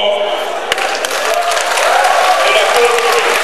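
Sustained applause from an assembly crowd at the Palais du Peuple in Conakry, Guinea, greeting a speaker invited to the podium at a political gathering; dense, steady clapping fills the whole stretch with a sharp knock early on.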